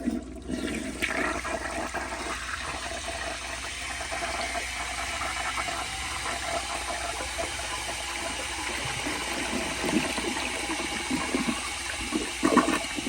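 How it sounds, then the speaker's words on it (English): A tall 1983 Eljer Hygeian toilet flushes with a loud, close gush that rushes and gurgles continuously, ending in a rising swirl as the bowl siphons. "here is a flush"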